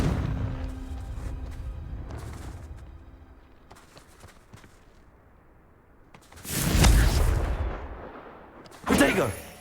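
Confringo fire blast spell explosions in Hogwarts Legacy: two heavy booming blasts, the first a longer rolling burst midway and the second sharper near the end, over a quieter rumble of earlier distant impacts and scattered combat noise.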